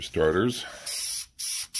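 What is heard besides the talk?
spraying a light coat onto iron meteorite sphere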